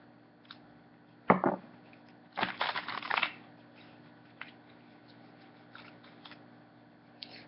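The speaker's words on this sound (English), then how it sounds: "I'm going to go ahead and shuffle the oracle cards as well." Oracle cards being shuffled by hand in a quiet room, a few short bursts of papery riffling and shuffling followed by faint scattered taps and rustles.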